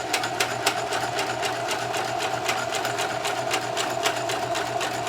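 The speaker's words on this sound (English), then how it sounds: "Just let this machine sew." A sewing machine stitches a test row on a scrap of fabric, a fast, even mechanical whir with rapid rhythmic ticking, heard up close and alone.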